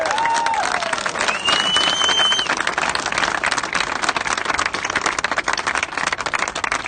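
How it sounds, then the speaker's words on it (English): Sustained applause from a large crowd at a political rally, steady and dense throughout, with a few faint whistles or cheers rising over the clapping. "Give yourself a clap."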